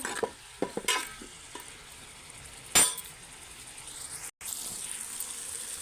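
Salted bottle gourd pieces stirred in a pan for a sorakaya chutney, giving a soft sizzle with a few scraping clinks of the spoon, near and clear, with no voices.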